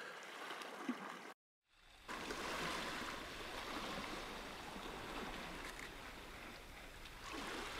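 Waves washing over rocks on the Anglesey coast, a steady broadband rush of swirling surf, briefly cut to silence near the start before resuming continuously and fairly close.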